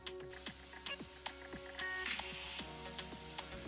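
Crushed onions, garlic and ginger frying in a tablespoon of cooking oil for a Nigerian meat pie filling, giving a steady close sizzle with scattered clicks and stirring taps throughout.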